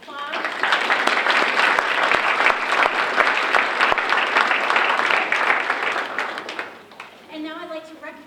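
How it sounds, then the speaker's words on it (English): An audience at an academic recognition program breaks into sustained applause, dense and loud for several seconds before fading, followed by a voice speaking. "So thank you, we'll applaud."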